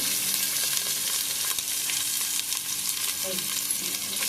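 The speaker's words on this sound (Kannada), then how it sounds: "ಈರುಳ್ಳಿ ಆದಂತ ಅವು ಅವು ನೋಡಿ ಎಲ್ಲ ಫ್ರೈ ಮಾಡ್ತೀನಿ" Onion, ginger and green chilli fry together in a pan, a loud, steady, close sizzle running throughout, with soft stirring scrapes under it and no talking.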